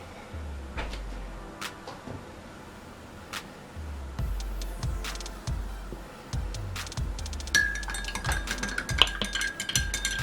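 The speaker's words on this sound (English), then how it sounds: "And stir this in wonderfully." A spoon clinks and taps against a glass while honey is stirred into tea, in a fairly regular series of close, sharp ticks with soft knocks beneath, picking up pace toward the end.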